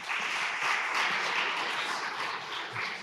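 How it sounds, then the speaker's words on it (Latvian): Dense, steady applause from an audience in a hall during a talk, broad and continuous without clear individual claps, sustained at even loudness for the whole stretch with no voices on top. "Inga, vienkārši kolosāli aplausi."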